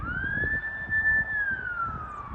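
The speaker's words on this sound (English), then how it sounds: "And then when I start filming, there's a fucking siren." One siren wails in a single long sweep that rises, holds and then falls slightly, loud and steady over low rumbling background noise.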